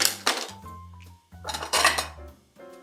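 Bowls set out on a kitchen counter while preparing gluten-free coconut shrimp, several close ceramic knocks and ringing clinks in quick succession, some clattering against one another, with no talking.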